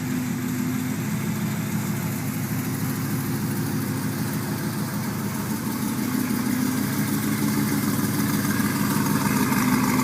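A cammed Mustang GT with headers and a Pypes Bombs off-road X-pipe exhaust idles up close, a steady deep lumpy rumble that carries on without a break.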